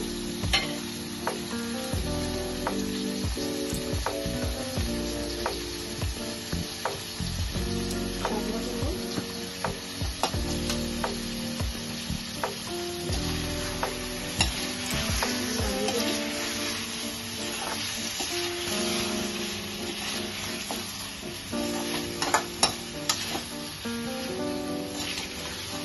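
Mustard curry leaf chicken frying in a pan with green chillies, pepper and salt, a continuous loud sizzle broken by frequent scraping and clinking stirs throughout, no talking.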